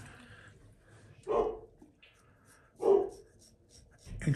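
A dog making a few soft close sounds, brief huffs or low woofs spaced a second or so apart over a quiet background.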